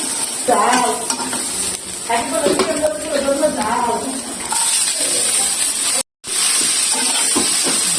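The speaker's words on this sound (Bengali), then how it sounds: "আমি শুকনো মরিচ আর রসুন পুড়ে নিচ্ছি প্রথমে" Dried chillies and garlic roast in a hot pan for a Bengali bhorta, giving a steady sizzling hiss with stirring scrapes throughout and a short break near the end, while a voice talks over it.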